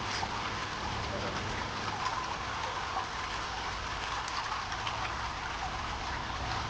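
Rain falls steadily, a continuous dense hiss of drops on surfaces with no breaks, close and fairly loud throughout.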